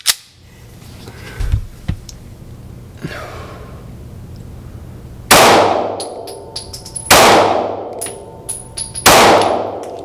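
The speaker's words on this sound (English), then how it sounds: "That was my first 3 shots." Three sharp gunshots at a target on a range, fired at a steady pace by a shooter using an AT3 ARO red dot sight, each loud and close with a ringing decay, after some faint handling noises.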